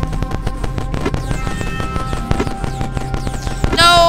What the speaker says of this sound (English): Gotta love the explosions.